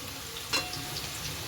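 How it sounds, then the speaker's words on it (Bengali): Potato pieces frying in hot oil in a pan, a faint, steady sizzle with one brief stir or clink near the start. "আর যে এই আলুটা ভাজা হচ্ছে"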